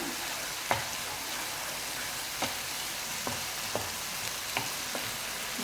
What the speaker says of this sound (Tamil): இப்போ எல்லாத்தையும் சேர்த்து நல்லா ஒரு ஒன்று பட நல்லா வதக்கி விட்டுக்குங்க